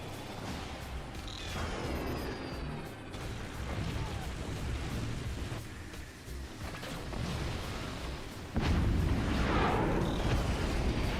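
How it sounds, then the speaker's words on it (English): Howitzer shells slam down in a mech combat video game, heard as loud rumbling booms and explosions over continuous battle noise, with a heavier blast surging near the end. "Howitzer impacts."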